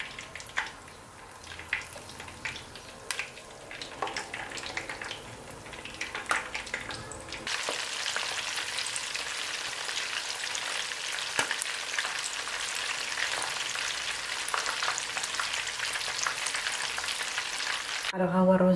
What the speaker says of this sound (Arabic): وهنا غنديروهم يتقلاو في الزيت